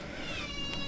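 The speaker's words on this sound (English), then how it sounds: "That's my cat" A pet cat meows close by indoors beside a fish tank, one drawn-out, fairly loud meow with clear harmonic tones lasting under a second.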